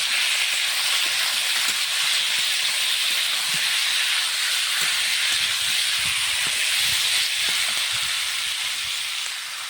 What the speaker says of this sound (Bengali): হলুদ দিয়ে দেবো, একটু লবণ দেবো, সুন্দর করে নেড়ে ভেজে দেবো।